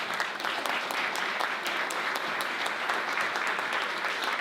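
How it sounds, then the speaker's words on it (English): A school audience applauds student presenters at a Newburyport anniversary event, with dense, steady clapping that stays loud and even throughout. "One more round of applause for the students."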